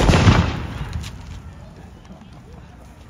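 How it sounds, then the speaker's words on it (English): A colonial firearm goes off in a live demonstration at a historic town, one loud close report at the start followed by a long rumbling decay. "You get live demonstrations of the firearms."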